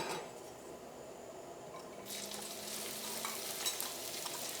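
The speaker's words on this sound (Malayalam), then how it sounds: "നമുക്ക് ചൂടായ വെളിച്ചെണ്ണയിലേക്ക് നമുക്ക് ഏറ്റവും ആദ്യം നമുക്ക് ചുവന്നുള്ളിയും തേങ്ങയും ചേർക്കാം" Shallots and grated coconut hitting hot coconut oil in a heavy pan, a steady soft sizzle that swells into a brighter, louder hiss partway through, close and continuous.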